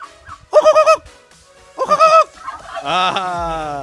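Turkeys at an agrotourism farmstay in Kemabong, a few loud, close gobbling calls in quick bursts, then a longer drawn-out call, with no talking.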